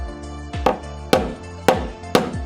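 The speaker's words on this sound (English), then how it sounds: "Hammer the T-nut into the door." Four sharp hammer blows drive a T-nut into a door for a PaxLock Pro latch install, each strike ringing briefly with a metallic tail, spaced about half a second apart and close by.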